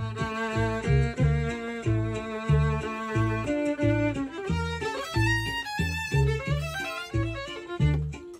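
The classic song Dark Eyes performed as a demonstration, a plucked instrument playing a bouncing bass-and-chord accompaniment beneath a melodic line, rhythmic and steady, close with no talking.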